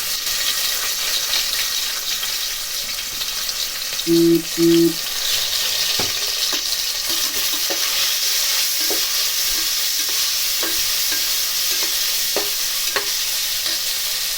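Two chopped medium onions sizzle steadily in a pan after fennel seeds, a constant close frying hiss with scattered stirring taps and a brief tonal beep partway through.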